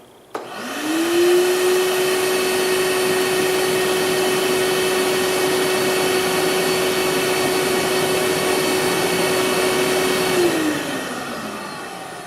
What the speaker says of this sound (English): I'm going to turn this shop vac on.